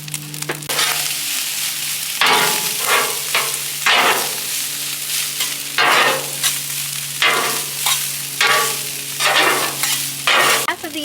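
Fried rice sizzles loudly on an oiled Blackstone flat-top griddle at a home hibachi cook, with repeated bursts of spatula stirring and scraping over a steady frying hiss.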